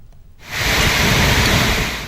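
Heavy monsoon downpour in northern Telangana, a dense, loud hiss of rain that swells in after a brief quieter moment and then pours steadily without a break.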